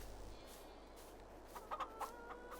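Hens cluck softly in a small hen house in Farming Simulator 22: a few short clucks in the second half over a faint low hum.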